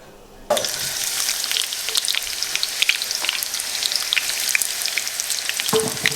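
Oil sizzles steadily in a pan while daal is being cooked, a continuous close crackling hiss that starts abruptly after a brief quiet moment and carries on loud without any talk.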